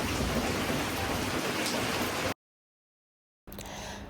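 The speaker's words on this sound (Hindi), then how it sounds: "बाहर को इतनी तेज़ बारिश थी" Heavy rain pouring steadily outdoors, a loud dense hiss of drops on surfaces that cuts out abruptly to silence for about a second, then returns just as heavy.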